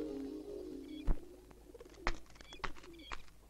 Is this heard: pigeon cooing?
yes